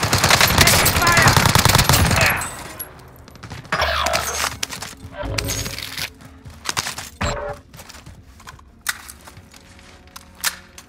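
Gunfire in Call of Duty Warzone, Verdansk Armored Royale mode: a dense automatic burst up front, then scattered single shots and short bursts at varying distances, with game radio callouts and effects between them.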